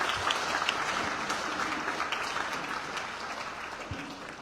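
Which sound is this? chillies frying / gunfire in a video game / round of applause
round of applause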